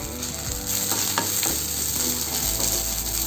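Onions and a small piece of tamarind frying and being stirred in a pan for peanut chutney, a steady close sizzle with light stirring scrapes throughout and no talking.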